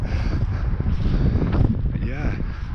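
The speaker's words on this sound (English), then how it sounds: "I'm so sorry about the wind. It's pretty bad here." Wind buffeting a microphone outdoors along a walk by a dismantled railway near Wellingborough, a loud continuous low rumble with gusty swells.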